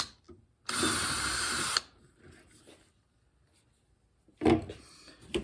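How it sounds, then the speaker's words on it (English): A power drill whirs loudly for about a second, boring a pilot hole into a wooden cross beam for a DIY grave marker, followed by quiet handling and a second brief burst of drilling near the end. "We also drilled a pilot hole over here"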